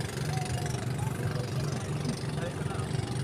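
A large outrigger boat's engine idles at a busy port in Real, Quezon, with a low, even rumble throughout, a constant mechanical drone without any change in pace.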